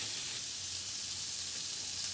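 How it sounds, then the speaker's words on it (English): Soft, steady sizzling of food frying in a pan, a faint hissing crackle with a low hum beneath it. "Now, this goes onto the frying pan."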